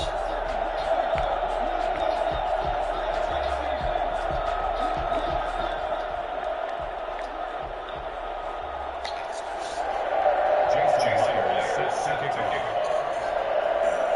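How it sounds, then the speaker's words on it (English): A simulated stadium crowd in an EA Sports American football game between the New Orleans Saints and the Las Vegas Raiders hums and cheers continuously, swelling near the end, under steady commentator talk. "This crowd is ready as their guys get set to match up between the New Orleans Saints and the Las Vegas Raiders."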